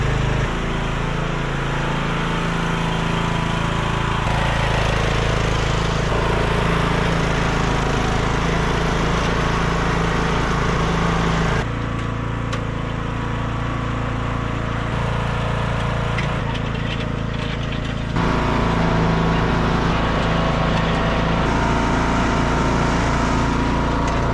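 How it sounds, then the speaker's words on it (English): A riding lawn mower engine runs steadily close by for a long stretch while towing a small trailer, its drone holding mostly level with a few shifts in load. "let's get the lawnmower out, let's hook up this little trailer, let's go grab them"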